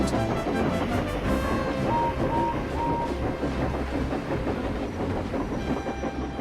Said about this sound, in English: Donald was taking a rake of empty trucks to the China clay works